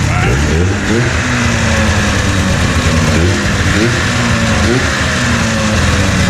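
A Ski-Doo snowmobile engine, long unused and smoking in a garage, runs loud and close with throttle blips rising and falling over a rough idle, with a voice briefly heard beneath it.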